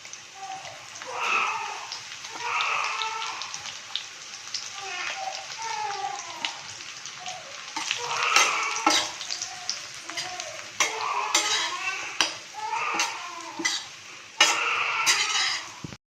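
Stuffed bitter gourds fry and sizzle in hot oil as chili powder goes in, a steady crackle with scraping stirs and sharp ticks, close by under a voice talking.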